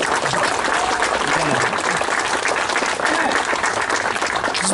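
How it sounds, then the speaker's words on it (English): A rally crowd applauds, a dense continuous clapping that stays loud and even throughout, with faint voices mixed in. "It's okay to clap and yell."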